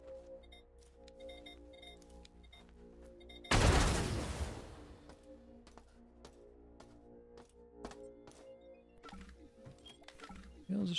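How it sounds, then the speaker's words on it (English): A loot container bursts apart in the video game System Shock Remake, a sudden loud explosive blast with a noisy rush that fades over about a second, set amid quieter humming ambience and scattered clicks. "as soon as I get close enough and hold down the button, it immediately starts to explode"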